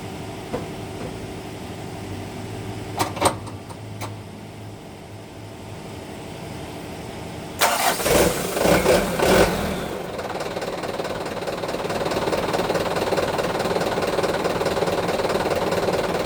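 A car engine cranks with a few brief bursts, then catches near the eight-second mark and settles into a steady running hum, after a battery water check and reconnecting the battery cables.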